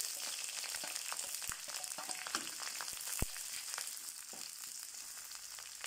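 Lemongrass and onions fry in hot oil in a pot for a Malaysian mutton-trotter soup, giving a bright, dense, steady sizzle with scattered crackles and pops up close.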